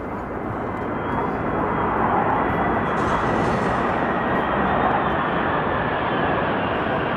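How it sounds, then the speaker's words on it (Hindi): Eighteen Swedish fighter jets fly overhead in a Christmas-tree formation, producing a loud, steady broadband roar that holds for several seconds, with no talk over it. "अब 18 स्वीडिश लड़ाकू विमानों ने उड़ान भरी।"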